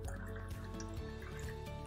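Water being poured into a container, a steady filling trickle with small drips and gurgles, close, over a low background hum.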